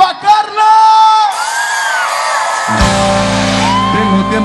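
A crowd shouts and whoops at a live concert, loud and dense, before the band's music kicks in with heavy bass beneath the cheering.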